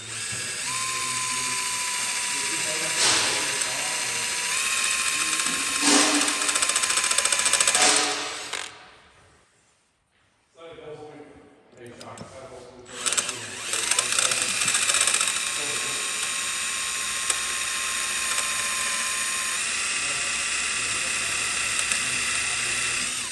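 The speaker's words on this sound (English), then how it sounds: "Put this drill bit to it and hopefully we got it pretty centered." Drill bit cutting out rivets on a Peterbilt 389 truck cab, a sustained high whine that holds steady, breaks off for a couple of seconds, then resumes with clattering, with people talking nearby.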